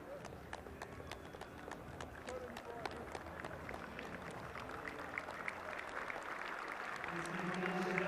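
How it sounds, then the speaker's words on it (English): Rugby players applaud an injured teammate as he leaves the field at a Currie Cup match between the Lions and Western Province, a scattered run of claps heard faintly amid stadium noise, with a commentator talking. "His teammates clapping him from the field."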